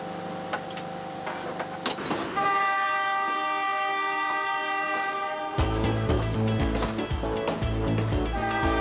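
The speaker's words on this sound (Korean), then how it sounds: "열차는 해안선을 따라 남쪽으로 달립니다." The Queenslander passenger train runs south along the Queensland coast toward Brisbane, with a steady rolling rumble, a long sustained horn blast, then louder, denser wheel-and-carriage clatter close by, with no talking.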